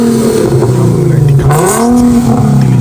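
A 2014 Infiniti Q50S with the 3.7 engine and a muffler-only exhaust revs loudly up close, its raspy tone rising sharply, dipping, then climbing again in a single blip.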